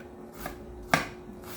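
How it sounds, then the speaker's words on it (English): A knife slices through an onion on a cutting board, giving three crisp, close chopping knocks spaced roughly half a second apart, the middle one sharpest. "If you wanted to do a thinner sliced onion, you can definitely make the cuts a lot thinner."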